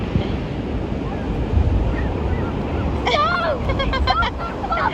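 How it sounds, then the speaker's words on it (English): Ocean surf breaks and rushes on a Rhode Island beach, a loud continuous wash of waves with wind buffeting the microphone, and a voice briefly speaks near the end. "look at these big old waves"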